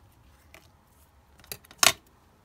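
Scissors cutting paper while trimming collage journal cards, with a few faint snips followed by two crisp, close cuts near the end of a quiet moment.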